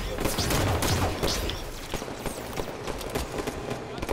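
Rapid gunfire from the Halo 5 Warzone multiplayer shooter, a loud opening flurry of shots that thins into scattered, quieter crackling bursts, with voices talking over it.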